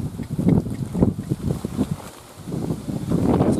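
Strong, unusual wind blows hard outdoors on a turtle-dove airgun hunt, gusting in rough rumbling waves that buffet the microphone, easing briefly before surging again, with no talking.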